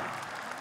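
A brief burst of applause from a church congregation, many hands clapping together in a dense, even wash, fairly faint and steady for the short moment.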